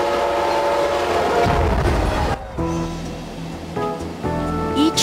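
A diesel Metrolink double-decker commuter train in Southern California rumbles past up close, its horn sounding in loud blasts over the rolling clatter of the cars.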